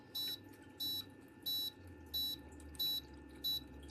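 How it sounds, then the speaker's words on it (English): A faulty Akeshan 9-litre ultrasonic cool-mist bedroom humidifier that won't light up emits a clear, high electronic beep in a steady pattern, six bursts about every two-thirds of a second, over a low background hum. "But that beeping doesn't stop."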